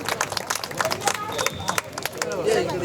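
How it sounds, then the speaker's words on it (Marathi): An audience claps for a young girl contestant who has come from Sangamner to compete, a dense patter of clapping with crowd murmur running through it. "एकदा जोरदार टाळ्या वाजवूया आपण या छोट्या दीदींसाठी."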